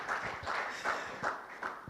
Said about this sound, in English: Definitely a well-deserved hand of applause.